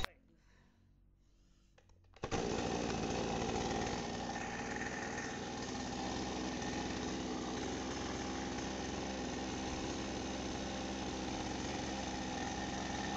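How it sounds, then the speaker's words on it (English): After a couple of seconds of near quiet, a chainsaw is pull-started and its small two-stroke engine suddenly catches, then runs loud and steady at a rough idle for the rest of the clip. "I'm going to pull this starter up, and hopefully it will start"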